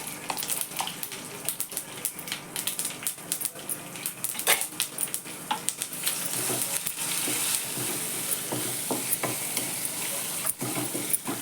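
Curry leaves, sesame seeds and crushed chili, added after garlic, crackle and sizzle in hot oil for ridged gourd chutney, with sharp spattering pops and utensil clicks building into a steady close fry.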